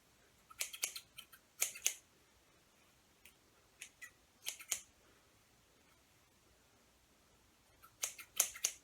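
Scissors snip through synthetic Freetress Waterwave crochet braid hair in small clusters of crisp, close, quiet cuts separated by pauses, with no talking.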